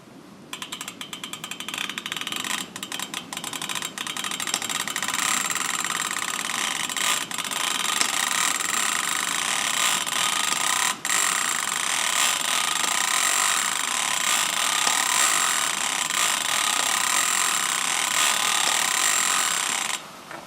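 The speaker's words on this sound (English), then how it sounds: "I'm just going to crank the crank handle, and you can watch as these move up and down." An old Patton Brothers oil field engine is turned over slowly by its crank handle, giving a steady close mechanical whir with scattered ratcheting clicks and ticks, and no talking.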